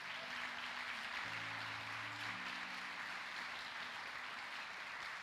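A church congregation applauds during an evening Sunday service, a steady, faint wash of clapping that fills the room for several seconds, with a low sustained keyboard chord under it.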